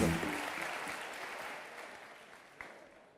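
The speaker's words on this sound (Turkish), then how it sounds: "Alkışlar alalım onu buraya evet." A TV studio audience applauds to welcome a guest onstage, a dense, steady round of clapping that slowly fades, with a host's voice briefly over it at the start.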